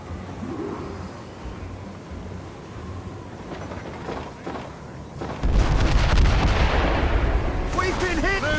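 Mortar fire strikes a sailing ship in Assassin's Creed Rogue, a loud booming impact breaking out halfway through after distant rumbling, with shouting crew voices over the din.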